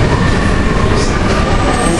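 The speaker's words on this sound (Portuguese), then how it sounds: "o trem tá chegando" A Paris Metro train pulls into a station with a loud, dense rumble of wheels on rails and a brief faint squeal, filling the whole short clip at close range.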